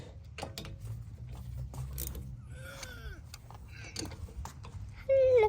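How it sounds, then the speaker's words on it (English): Ratchet tightening the rear brake bolts on a Honda Odyssey or Pilot, heard as scattered clicks and mechanical creaks close by, with voices speaking over them and a loud squeal at the end. "now we're gonna go ahead and tighten the bolts all the way"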